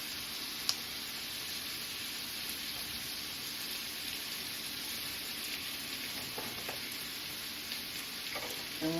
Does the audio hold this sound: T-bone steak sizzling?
yes